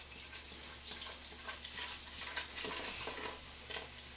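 Beer simmers off in a pot of homemade chili, a steady soft sizzle and bubbling with faint stirring clicks, continuous and moderately close.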